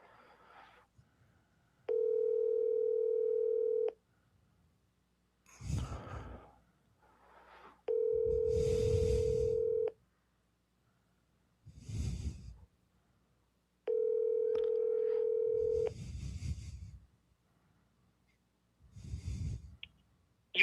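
A telephone call tone sounds in three evenly spaced two-second beeps before an automated voicemail system picks up, with breathing and soft mouth noises filling the quiet gaps between them.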